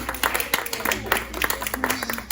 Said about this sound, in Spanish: Denle un fuerte aplauso al Señor por Anthony.